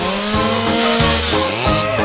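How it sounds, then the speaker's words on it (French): A loud chainsaw revs up close, its engine pitch rising and dropping through a couple of short surges. "J'ai besoin d'une scie."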